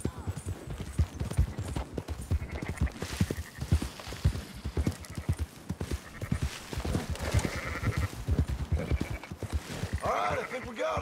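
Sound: sheep bleating in the video game Red Dead Redemption 2

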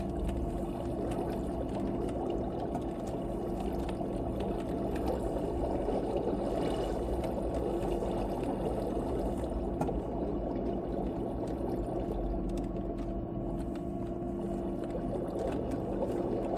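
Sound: flowing water of a waterfall in Minecraft video game

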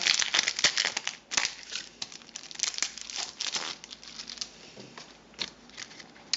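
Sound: opening a phone screen protector film package

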